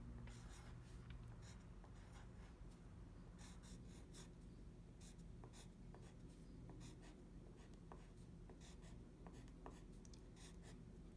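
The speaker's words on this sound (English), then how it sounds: "I am going to write at the top of my paper" A pencil writing large letters across the top of a sheet of paper, close and quiet, with steady scratchy strokes and short pauses between them, no talking.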